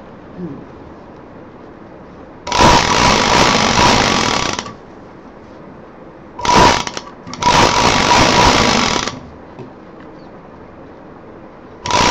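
A sewing machine stitching a zip and lining onto a handbag, running in loud close bursts: a long steady whir, a short pause, then two more runs, with quiet gaps between.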